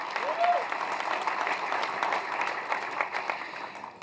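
Applause from a dinner audience at a Newport Beach fire and lifeguard appreciation event, a steady dense patter of clapping across the room, with crowd noise and a voice partly heard beneath it.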